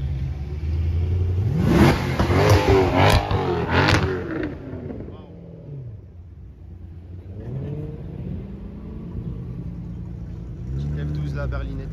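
Mercedes C-Class car engine revving at an open-air car show, a loud rising rumble with sharp rev bursts in the first few seconds, then easing to a lower idle with people talking nearby.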